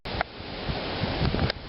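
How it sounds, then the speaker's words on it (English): Strong wind buffets the microphone outdoors during a walk with a stroller, a steady roaring rumble with louder gusts throughout and no talk. "it's really windy, so sorry if you can't hear me"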